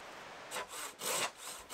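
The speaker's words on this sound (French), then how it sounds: "mes journées sont rythmées au fracas de ma hache et au chant de ma lame de scie" Hand saw strokes rasping through dry dead wood, three long pushes in a steady rhythm, close and fairly quiet.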